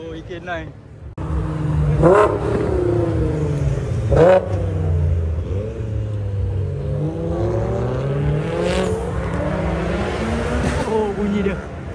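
Tuned car with a very low, deep exhaust rumble idles and revs in a few swelling pulses, loud and close, while people talk over it at night.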